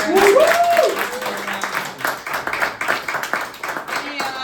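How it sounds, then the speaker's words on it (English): An audience claps for the winner at a monthly comedy roast night, with quick scattered hand claps sounding close and uneven while voices and a brief whoop or cheer rise over them at the start. "Big round of applause for Vigil Vincent, our winner of this evening"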